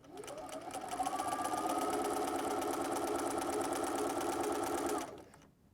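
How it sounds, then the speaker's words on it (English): Sewing machine stitching fabric for a cuddle throw, a steady fast mechanical whirr running for about five seconds at an even pace before stopping abruptly, close and moderately quiet. "Stitch almost all the way around, giving yourself about an 8-inch gap for turning."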